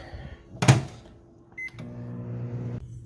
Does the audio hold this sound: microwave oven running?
yes